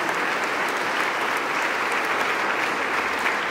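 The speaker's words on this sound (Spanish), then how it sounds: "Damos un fuerte aplauso a estos mártires de la Iglesia Católica." Church congregation gives a sustained round of applause honouring Catholic martyrs, an even, steady wash of many hands clapping at moderate distance with no break.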